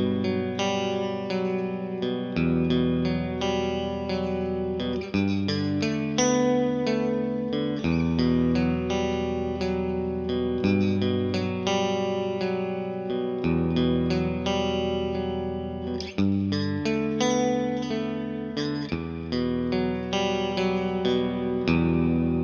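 Electric guitar played through a BluGuitar AMP1 on the clean channel with reverb turned up full and coils split, sustained chords ringing continuously with a bright, sparkly wash of reverb.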